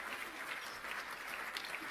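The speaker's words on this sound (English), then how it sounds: "please give yourselves a round of applause" Dinner guests at the Annual Churchill Dinner applaud, a faint, dense and even wash of many hands clapping that holds steady throughout, heard from a distance with no speech over it.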